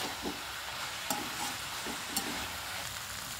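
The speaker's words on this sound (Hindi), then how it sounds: "अब डालते हैं अपनी ये बची हुई रोटी जो मैंने काट के रखी है, ये सारी डाल देते हैं। और इनको अब हम बढ़िया से मिक्स करेंगे।" Chopped leftover roti noodles stir-fried in a pan: a steady, close sizzle runs throughout, punctuated by a few sharp spatula scrapes and clacks, with no voices.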